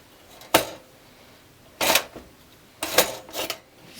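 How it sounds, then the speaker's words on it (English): Band switch mechanism of a Zenith 9S369 shortwave radio clicking, several sharp mechanical clicks and clacks spaced irregularly, some in quick pairs, close up with no talking. "There's how the band switch mechanism works for the shutter dial."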